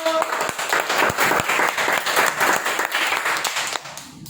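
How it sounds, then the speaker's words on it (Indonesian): A classroom group claps after a student discussion presentation, a steady patter of many hands at moderate loudness that thins out near the end. "tepuk tangan dulu"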